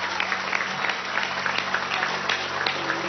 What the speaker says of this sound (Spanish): Un aplauso para el embajador.